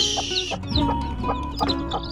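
Mother hens of a modern F1 Pacek crossbreed cluck near and loud while their chicks are moved into a box cage, with repeated short clucks and no one speaking.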